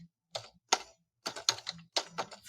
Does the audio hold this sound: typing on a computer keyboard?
yes